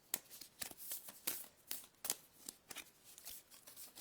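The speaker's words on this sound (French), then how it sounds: "Ah, elles sont toutes tombées." Playing cards falling and slapping down onto a surface in a quick irregular series of light flicks and taps, fairly close and clear, with no talking.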